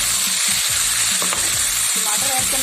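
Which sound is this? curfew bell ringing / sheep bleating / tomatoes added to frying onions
tomatoes added to frying onions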